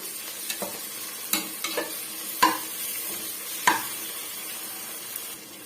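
Ginger garlic paste sautéing in a pan for vegetable biryani, a soft constant sizzle broken by several sharp scrapes and knocks of a spoon stirring against the pan, close and without speech.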